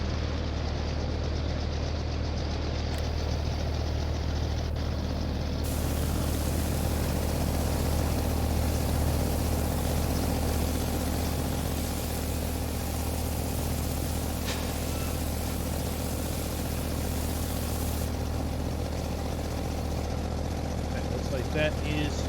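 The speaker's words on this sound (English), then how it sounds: "Engine started." Truck engine idling and running in Farming Simulator 19, a continuous low droning rumble with steady hum that holds evenly throughout at fairly loud level.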